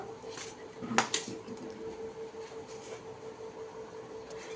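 Dishes and utensils clink a couple of times close by while fish is served into a bowl, two sharp knocks near the start, then quieter handling over a steady background hum.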